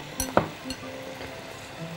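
A spoon stirs rice with chicken in a sizzling pan, with a few quick metallic clinks and scrapes up close over a low, steady frying hiss, and no one speaking.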